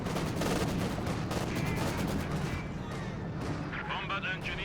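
A T-35 tank's gun fires amid a dense battlefield din in Company of Heroes 2, with booming shots and rattling gunfire running continuously, loud and layered, while a commentator talks over it.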